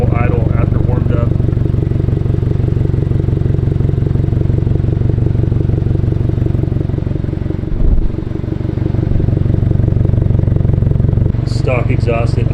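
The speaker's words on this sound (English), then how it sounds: "This is at normal idle after warmed up." A warmed-up 2022 Subaru WRX idles with a steady, even exhaust burble throughout. A voice speaks briefly at the start and again near the end.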